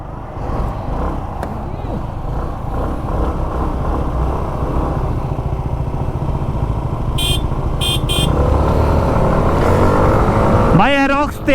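A Hero Xoom 160 scooter ridden and accelerating, its engine note rising steadily against traffic noise, with a few short horn blasts toward the end and a voice faintly under the ride.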